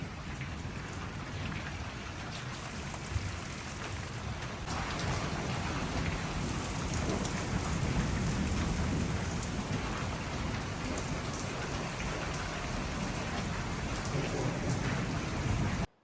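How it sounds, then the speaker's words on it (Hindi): Heavy monsoon-style rain pours steadily outside during an Eid night, with a dense continuous hiss of drops on surfaces and low thunder rumbling underneath, loud and unbroken throughout. "बाहर बारिश बहुत तेज़ है"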